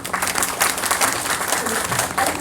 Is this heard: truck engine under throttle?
no